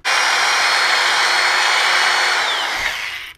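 A power drill with a 1/4-inch bit whines at high speed for a few seconds, close and loud, enlarging a hole in a Polaris Slingshot body kit panel, its pitch dropping slightly as it slows and stops.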